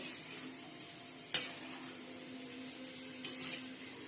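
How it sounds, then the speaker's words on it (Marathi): Sweet shankarpali deep-fry in oil over low heat, giving a soft steady sizzle and bubbling hiss with a couple of faint clinks from stirring, quiet and close. "चांगले एकदम मंद आचेवर तळून घेऊया"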